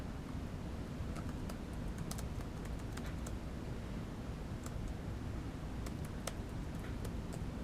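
Someone types a comment on a computer keyboard, with soft, irregular key clicks in short bursts over a steady background hiss, close but quiet.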